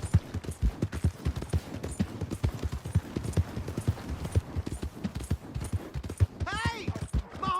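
Horse hooves clip-clop in a steady, close rhythm in the Red Dead Redemption 2 video game, with voices speaking over the hoofbeats throughout.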